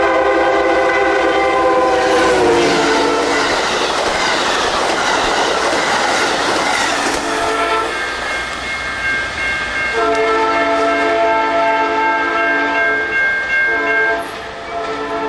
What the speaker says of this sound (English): This is the train from Pontiac going to Chicago.